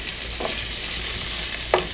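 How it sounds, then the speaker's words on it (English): Chopped beef tips sizzle in a hot pan, a dense, steady frying hiss close up, with a couple of soft stirring scrapes and no talk. "You want to be able to hear when that meat hits the pan, something's happening."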